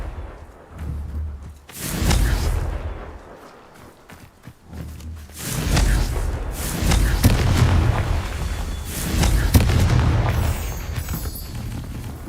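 Repeated Confringo fire spell explosions in Hogwarts Legacy, a series of loud booming blasts and crackling bursts spread across the stretch with little pause, rumbling low and dense.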